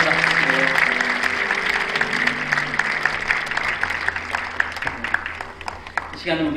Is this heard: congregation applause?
yes